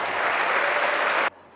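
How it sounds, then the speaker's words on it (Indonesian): Loud, dense applause from a large audience of students at a motivational event, steady and close for over a second before cutting off abruptly. "Tepuk tangan untuk kita semuanya hari ini."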